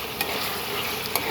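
Curry sizzling and bubbling in a pan, a steady close hiss of frying with a couple of brief sharper pops, no voices.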